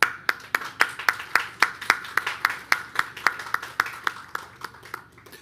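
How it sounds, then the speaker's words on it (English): At a college conference, a single pair of hands claps in a steady, evenly spaced rhythm, close and distinct. Each clap stands out sharply and the claps gradually soften and slow toward the end. "let me pause there and give you an applause"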